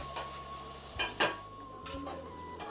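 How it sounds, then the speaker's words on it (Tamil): Onions frying to golden brown in a pan for chicken biryani, a soft low sizzle under a few sharp scraping stirs and clinks of a spoon against the pan, close and fairly quiet. "இப்போ வெங்காயம் நல்லா பொரிஞ்சிருச்சு, நல்லா கோல்டன் ப்ரௌனில் ஆயிடுச்சு."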